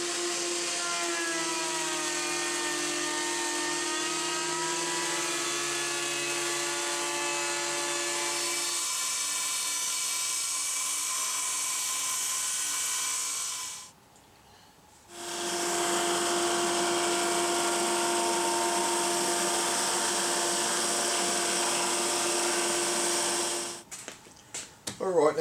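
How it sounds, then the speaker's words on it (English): A drum sander levels and thicknesses timber for a Les Paul Junior-style guitar body. It makes a steady, loud machine whine with a tonal hum, drops out briefly midway, then resumes, with no talking. "now we finished those off through the drum sander, and that was just to perfectly level out the top and also to take it down to thickness"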